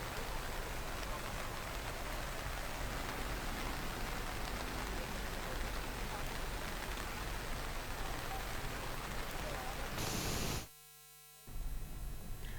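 Heavy overnight rain falling in Haridwar, a dense steady hiss that holds at full strength and cuts out briefly near the end.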